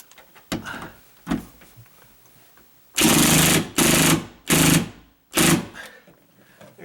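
Drill driving a screw into a wooden stud behind drywall, a few short bursts followed by four loud sustained whirring runs, close and alone.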